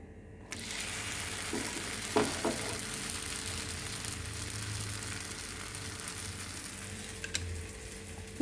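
Holige, a sweet flatbread, cooking on a hot pan, giving a low continuous sizzle that starts abruptly and carries a few faint scraping touches, steady and quiet throughout.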